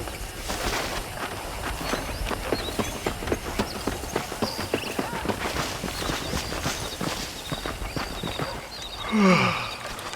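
Horse hooves clip-clop in a steady, even rhythm as a rider travels in the Red Dead Redemption video game, continuous and fairly loud, with a short whinny-like call near the end.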